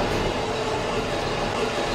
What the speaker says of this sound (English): Ladies and gentlemen, our train has lost the brakes